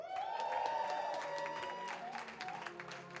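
Crowd at a hip-hop album release show in Edmonton cheers and applauds loudly and steadily, whistles and shouts rising over dense clapping throughout.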